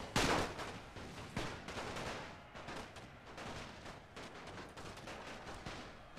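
Dense, continuous gunfire from a WWI battle in The Great War: Total War mod, with many overlapping rifle and machine-gun shots crackling throughout and a loud burst near the start, no talk.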